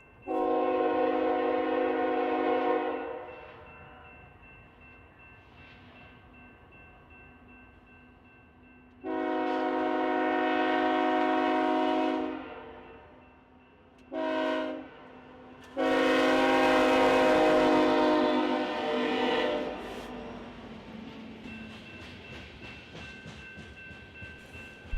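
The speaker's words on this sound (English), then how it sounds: "A GEVO and an SD-70 Ace head up this southbound coal train." A BNSF southbound coal train led by a GEVO and an SD70ACE locomotive passes a grade crossing in Springfield. Several loud, long horn blasts sound close by, separated by gaps, over a steady rumble of rolling cars.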